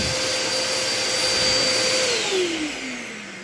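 A Sears-brand vacuum cleaner runs on a couch with a steady, loud motor whine. Its pitch drops partway through as the load changes. No one speaks.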